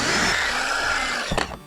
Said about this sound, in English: I'm just going to drill through the wood